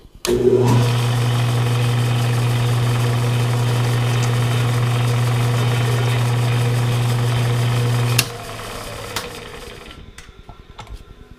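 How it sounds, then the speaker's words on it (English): Machine chamfering the bottom of a hole in a metal part during an ice pick build, a loud steady motor hum running for about eight seconds, then cutting off and winding down with a few faint clicks. "With the part flipped over, I can chamfer the bottom of the hole."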